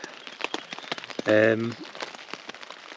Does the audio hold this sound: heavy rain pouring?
yes